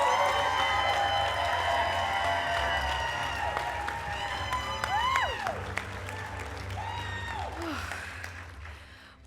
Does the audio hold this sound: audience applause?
yes